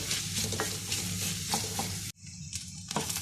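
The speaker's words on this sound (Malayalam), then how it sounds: "ഇത് നമുക്ക് നന്നായിട്ട് ഗോൾഡൻ കളർ ആവുന്നത് വരെ ഒന്ന് വഴറ്റി കൊടുക്കണം, ഒരു മീഡിയം ഫ്ലെയിമിലിട്ടിട്ട്" Onions sizzle with salt in a pan over a medium flame, a close, continuous frying hiss broken by the scrape and clatter of stirring, with a brief drop partway through and no talk.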